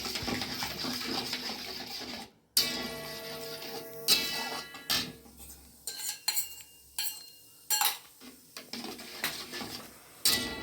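Egg is stirred a little at a time into boiled vegetables and spinach with oats in a pan, cooked without oil, giving irregular clinks and scrapes of a utensil against the pan with short gaps and no talk.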